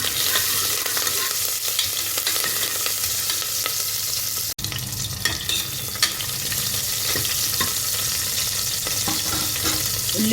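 Shallots, green chilies and curry leaves fry for sambar rice with a loud, continuous close sizzle and occasional stirring scrapes, with no voices throughout.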